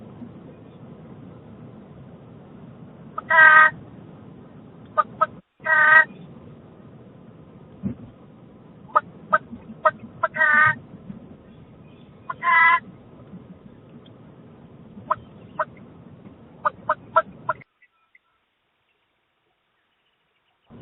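A chicken calling near a Ring doorbell, a series of short clucks and bursts of varying length scattered over a quiet background, close and fairly loud, ending in near silence.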